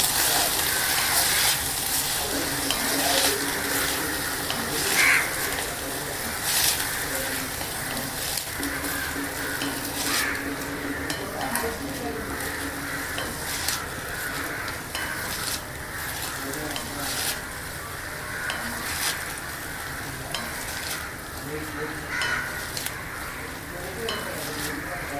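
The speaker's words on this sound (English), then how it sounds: "Now add the moringa flowers. Saute this also for a minute." Moringa flowers sautéing in a pan for soup, a continuous crackling sizzle with repeated stirring scrapes and clinks over about twenty-five seconds, close and moderately loud, without speech.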